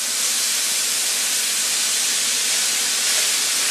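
Steak meat and vegetables sear in a hot iron pan for cheese steaks, a loud, dense, continuous sizzle and hiss holding steady and close throughout.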